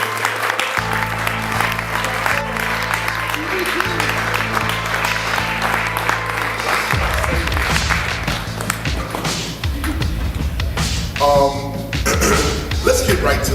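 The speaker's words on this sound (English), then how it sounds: "Let us all give a wonderful round of applause for the teacher," A crowd applauds the hip hop teacher KRS-ONE, loud sustained clapping over a droning low hum and thumping bass, with some cheering voices near the end.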